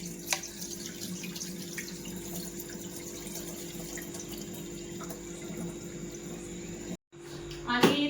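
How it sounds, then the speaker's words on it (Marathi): Water running and splashing as it is drained off freshly washed wheat grains, a continuous close pouring hiss with a brief break and a louder splash near the end. "हे सगळं पाणी काढायचं"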